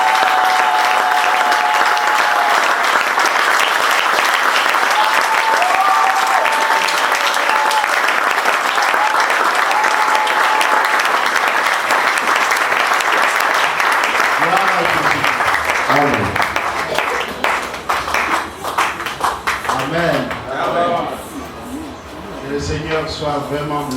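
A church congregation bursts into loud, sustained applause during a worship service, mixed with cheering voices, before the clapping thins out and a voice speaks over the fading claps.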